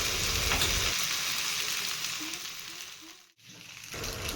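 Tomato sauce goes into pasta frying in a pan, producing a steady close sizzle with soft stirring scrapes that briefly dip to near silence before the frying resumes.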